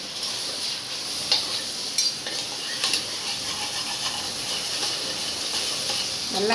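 Mint and coriander leaves sauté in a pan for mushroom biryani, a close, steady sizzle and hiss broken by several scraping stirs of a utensil against the pan.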